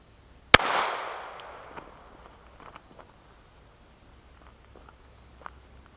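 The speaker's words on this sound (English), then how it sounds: "All right, first shot. Here we go. 3 shots total." A single sharp, loud pistol shot firing a heavy .45 cast lead load, with a quick decaying echo across an outdoor range followed by faint scattered ticks and quiet background.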